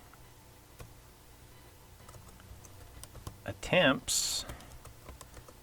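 Typing on a computer keyboard, soft scattered key taps close by at an irregular pace, with a brief louder burst of clicking near the end and a voice speaking briefly.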